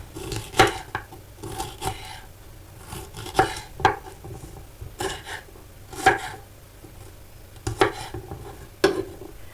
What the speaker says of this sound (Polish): Umytą paprykę przekrawam na pół, usuwam gniazda nasienne i białe błonki. I kroję w cienkie paseczki.